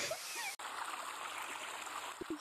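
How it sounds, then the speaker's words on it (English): Rushing water flows steadily in the Gorilla Tag virtual reality game, a continuous wash of noise with a sharp click early on and a faint voice near the end. "it's the water from earlier"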